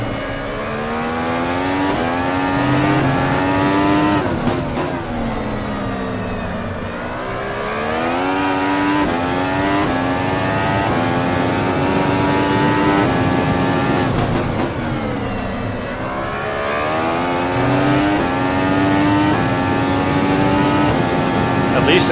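Race car engine at full throttle, a loud close harmonic roar that climbs in pitch, dips briefly on shifts and climbs again in repeated surges, filling the whole stretch.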